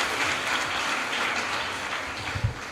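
Brief, steady applause from an audience at a high school annual prize giving ceremony greets the acting principal, a uniform clatter of many hands with a slight bump near the end.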